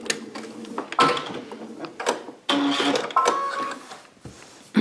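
A sewing machine runs in short bursts of rapid whirring stitches while stitching quilt binding, pausing and restarting as it overstitches and backstitches at the starting point.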